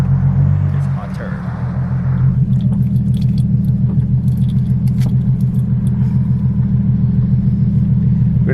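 Ford Mustang engine idling in hot Arizona weather: a deep, steady, rhythmic rumble, close and loud, with a faint pulsing lope throughout.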